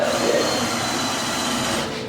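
A power drill, used while working on a RWD V8 Civic build, runs steadily in a loud continuous whine for about two seconds before winding down at the end.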